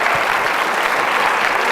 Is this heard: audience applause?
yes